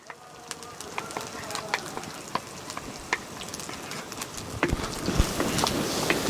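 Yogurt and spice paste goes into a hot pan for an egg gravy curry and is stirred, giving a steady close sizzle with scattered utensil clicks and scrapes that grow busier toward the end.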